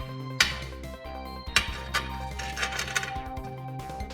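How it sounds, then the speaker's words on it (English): A kitchen knife dices food on a cutting board during preparation of a chicken croissant sandwich, giving a series of sharp, irregular chops and clicks close by, with short pauses between bursts. "Okay, we're gonna keep dicing it a little bit."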